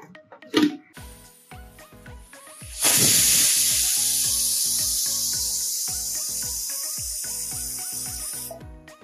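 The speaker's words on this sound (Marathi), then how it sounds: "आता आपण लीड बंद करून शिट्टी देऊन घेऊयात." A pressure cooker holding prawns pulao starts venting: a sudden loud rush of steam with a high whistling edge bursts in and holds steady, slowly easing off, over soft background music.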